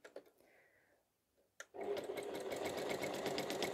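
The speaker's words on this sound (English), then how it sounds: "if I'm using my walking foot, I'm doing straight stitching" A sewing machine with a walking foot starts up after a few soft handling taps and then runs steadily, doing straight stitching in a fast, even, whirring rattle that is close and continuous.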